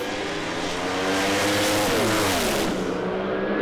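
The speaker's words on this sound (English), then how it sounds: "Here comes John Zapier with the revs up" A Pro Slammer drag racing car at Sydney Dragway roars loudly and close at the start line, its engine revving hard with rising and falling pitch sweeps over a continuous heavy rumble.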